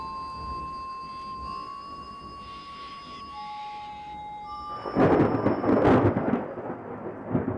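A thunderstorm with rain in the Australian outback: a quiet stretch with faint steady tones gives way to a loud, broad roll of thunder that swells and rumbles on for the last few seconds.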